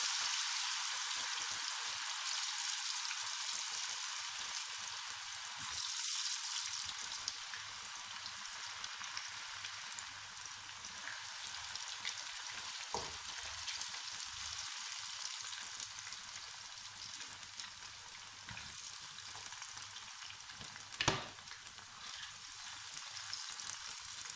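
Cut potatoes frying into chips in a pan of hot oil, a dense continuous hiss and crackle that holds steady for the full length, with a few louder pops and no talking.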